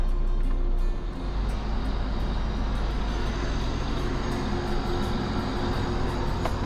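A 2006 Cummins ISL 400 diesel engine in a Class A Monaco Dynasty motorhome runs at a steady, loud, close drone after a brief dip, holding an even roar throughout with no talk.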